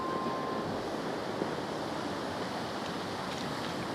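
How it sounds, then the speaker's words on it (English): Wind and waves at Poltesco Cove, Cornwall, beside an old serpentine stone works, make a steady broadband rush of surf with wind buffeting the microphone and no voices. "the building echoing only to the sound of the wind and the waves"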